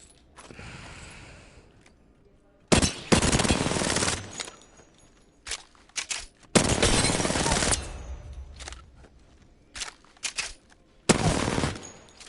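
R-99 submachine gun and Wingman pistol fire in Apex Legends, bursts of rapid automatic shots alternating with single loud cracks, separated by quiet gaps and mechanical clicks.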